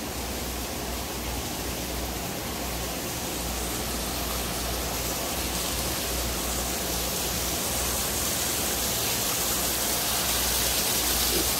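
A waterfall in a garden setting roars as a loud, constant broadband rush, with no breaks and no voices over it.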